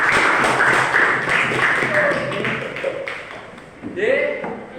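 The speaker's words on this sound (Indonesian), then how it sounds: "Oke, tepuk tangan untuk Bapak." An audience applauds a teacher at a classroom teaching assessment, producing a dense, steady wash of clapping that mixes with a voice and lasts throughout.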